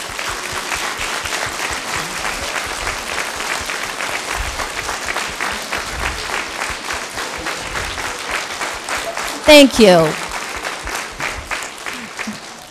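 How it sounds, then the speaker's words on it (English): Sustained applause from a large crowd at a school education award event, steady dense clapping throughout, with a brief spoken thanks near the end. "That applause was probably appreciated"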